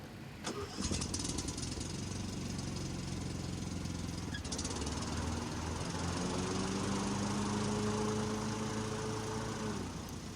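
A Cub Cadet XT1 riding lawn mower engine cranks and catches after a short start, then roars up to a loud, steady run close by, with a rising whine and a slight shift in pitch as it settles.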